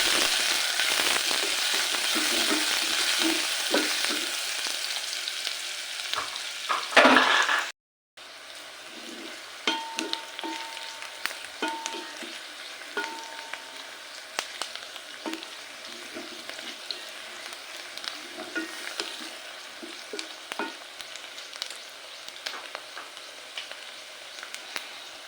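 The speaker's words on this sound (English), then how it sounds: "Add onions in the pot, saute them until golden." Onions sautéing in a cooking pot give a steady, close sizzle with crackling pops that continues for the whole stretch, broken by a short gap of silence partway through.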